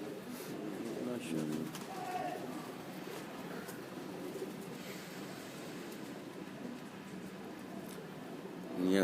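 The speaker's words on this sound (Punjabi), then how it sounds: "ਮਹਿਰਾਂ ਵਾਲੇ ਕਬੂਤਰ ਨੇ ਜੀ।" Pigeons kept on a rooftop loft in Sialkot cooing softly, with repeated low throaty coos over faint outdoor ambience and quiet voices nearby.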